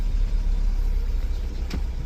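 A car engine rumbles steadily close by as the car is brought round on a road trip, a low continuous drone with no talk.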